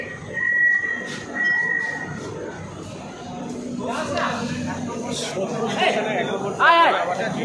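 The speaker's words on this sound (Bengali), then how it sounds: "আমাদের ট্রেন সোদপুর থেকে ছেড়ে দিল 12টা 38-এ" An AC local train on the Sealdah line pulls out of Sodepur station, a low steady rumble of the moving carriage beneath continuous passenger chatter and close talking inside the coach.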